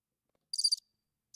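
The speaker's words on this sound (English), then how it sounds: "Cue the crickets." Two bursts of cricket chirping, used as a comedic silence cue, sound alone against dead quiet: a short pulsed trill followed by a pause and the start of another.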